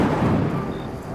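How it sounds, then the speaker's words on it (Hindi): A single heavy thunder crack during a rainstorm, a loud broadband boom rolling out and slowly fading over about a second, with no voices. "तभी एक जोरदार बिजली आकाश को चीरती हुई कड़की"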